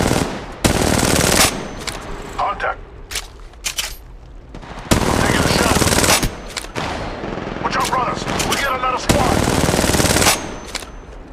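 Bursts of rapid automatic gunfire from Apex Legends gameplay, three long loud volleys separated by pauses filled with fainter shots, impacts and game voice chatter, all close and dense.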